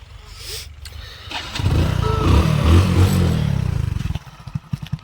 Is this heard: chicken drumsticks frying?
no